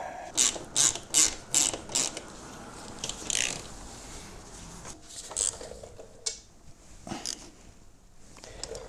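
A ratchet wrench clicks in quick bursts while tightening the nuts on a Suzuki DR650 rear shock. Short runs of close metallic ticking are separated by brief pauses and scattered clinks, with no talking.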